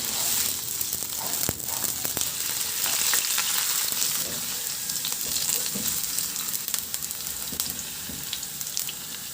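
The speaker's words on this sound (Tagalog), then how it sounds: "Sa kawali naman, naglagay ako ng mantika. Iprito ko na yung patatas." Potatoes frying in oil in a wok, producing a loud, dense, continuous crackling sizzle with occasional stirring knocks and no speech.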